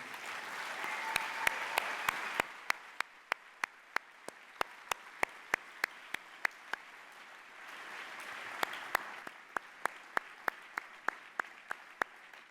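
Graduation audience in a hall applauding the parents, scattered claps with a few sharp, distinct hand claps standing out at a steady pace over a soft background of clapping.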